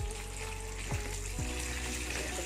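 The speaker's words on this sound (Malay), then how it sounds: "Saya nak goreng dia sampai betul-betul garing ya guys." Catfish frying in hot oil until crispy gives a steady crackling sizzle with a low hum underneath, close and continuous, with a couple of faint clinks.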